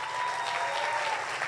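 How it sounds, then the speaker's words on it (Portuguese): An audience at a sales conference breaks into dense, continuous applause, a brief wash of many hands clapping together at a fairly even level. "Vamos dar uma salva de palmas para esses caras que eles arrebentaram"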